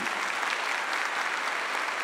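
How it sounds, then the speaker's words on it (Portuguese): Church congregation applauding together, a dense steady burst of clapping that holds evenly from start to end, fairly close and full. "pode aplaudir."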